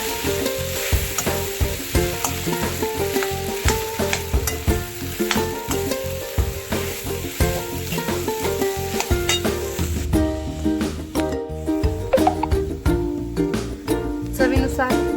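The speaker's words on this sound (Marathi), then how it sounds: "त्यातच आता आपण हा स्मॅश केलेला बटाटा घालून घेऊया. मिक्स करूया." Smashed boiled potato for vada pav filling being stirred and fried in a pan, with repeated scraping and clattering strokes of a spoon over a continuous close sizzle.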